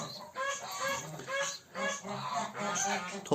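Pigeons offered for adoption, bred from a keeper's own line of grey flying birds, give repeated honking, cooing calls in short bursts close by, with brief gaps between phrases.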